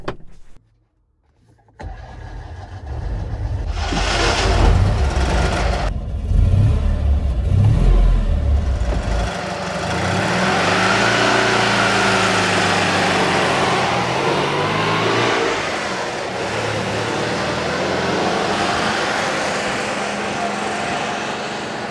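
A Puch 500S, a Fiat 500 fitted with a flat-twin engine, starts and then drives. The loud engine rumbles up through the gears, the pitch rising and falling with each shift, and the car is heard close from inside.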